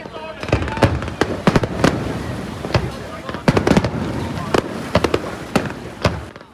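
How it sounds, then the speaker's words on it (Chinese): Fireworks burst over the night sky at the Keelung Ghost Festival lantern release at Wanghai Lane, sharp loud cracks coming at irregular intervals, sometimes in quick clusters, over a crowd murmur and a voice. "绚丽烟火划破夜晚星空"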